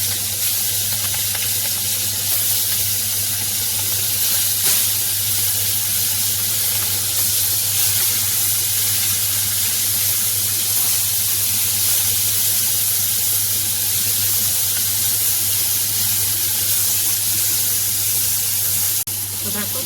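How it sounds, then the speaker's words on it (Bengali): Shrimp frying in hot oil in a kadai (wok), a steady loud sizzle and hiss that holds evenly throughout without breaks. "এদিকে আমি কড়াইতে তেল দিয়ে দিয়েছি, তেলটা গরম হয়ে গেছে। আর আমি একা একা চিংড়ি মাছগুলো এতে দিয়ে দেবো।"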